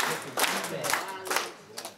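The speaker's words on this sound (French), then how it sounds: "Applaudissons pour nous-mêmes" Scattered clapping from a school audience in Katiola, a few bursts of hands that stop and start over a couple of seconds, with voices mixed in.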